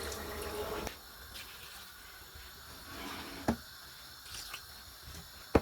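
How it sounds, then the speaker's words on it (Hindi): Three glasses of water are poured into a cooking pot for a cauliflower and potato pulao. A short gush of pouring water is followed by quieter sloshing and a few soft knocks. "3 गिलास पानी डालेंगे।"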